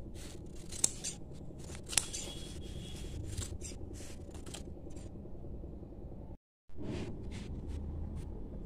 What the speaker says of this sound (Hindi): ऐसे हम फॉर्म शीट के छोटे छोटे से टुकड़े काट लेंगे।